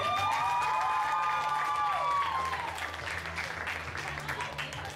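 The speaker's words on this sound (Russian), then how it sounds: "Сестрам аплодисменты." Sustained applause from a crowd at a pedagogical college armwrestling championship, loud and steady, with some cheering and a voice rising above it at the start before the clapping continues.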